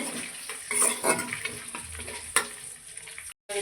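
Bay leaves and cumin seeds hit hot oil in a pan with a bright crackling sizzle, punctuated by a few close clinks of a spoon against metal, no voices.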